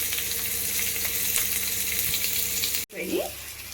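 Capsicum and onion frying in oil for egg chicken manchurian, a steady close hiss that cuts off abruptly near the end, followed by a brief stir and renewed sizzle.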